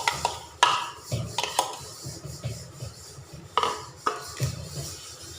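A utensil scrapes and clanks against a pot while bamboo shoot soup is stirred with herbs, mint leaves and pounded chili, giving irregular metallic knocks and rubbing strokes, close up with no talk.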